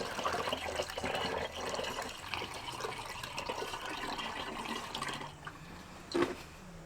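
More water keeps pouring into the chiller tank of an RMLaser RM960 Pro CO2 laser cutter, a continuous trickling, gurgling stream up close, easing off near the end with a brief louder clunk.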